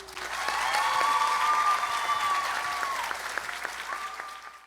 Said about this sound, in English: That is the sound of cheering.